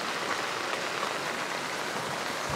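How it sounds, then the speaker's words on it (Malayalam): Rainwater from a low-cost harvesting setup pours into a household well during rainfall, giving a steady, even hiss of falling water that stays constant throughout, with no speech. "വെള്ളം നല്ല ഭംഗിയായിട്ട് ഈ കിണറ്റിലേക്ക് വന്ന് വീഴുന്നുണ്ട്."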